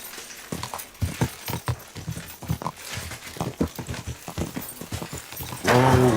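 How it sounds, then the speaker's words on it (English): Horse hooves clip-clop in the medieval game Kingdom Come: Deliverance II, a steady rhythmic series of hoof thuds at close range, ending with a louder burst of noise. "Looks like a bloody expensive horse."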